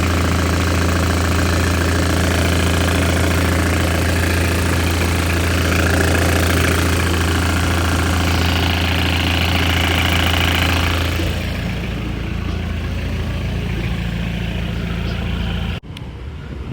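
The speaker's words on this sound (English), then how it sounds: "Because as you know, once the diesel starts, it's running." A Mitsubishi Pajero diesel engine idles close by with a loud, steady, knocking rumble that eases to a quieter idle partway through, then cuts off abruptly just before the end.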